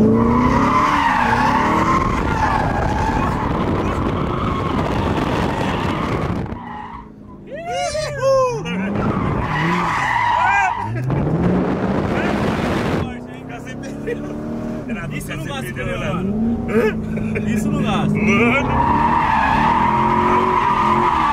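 A Corvette drifts with skidding tires, long loud squeals rising and falling over a revving engine, while excited people talk and shout over it throughout.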